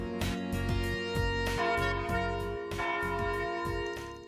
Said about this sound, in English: Oh, is that the bell from the chapel in the artisanal district?